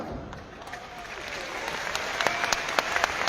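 An audience at an RCM event in Delhi gives continuous, fairly distant applause, with sharper individual claps standing out and a faint voice underneath.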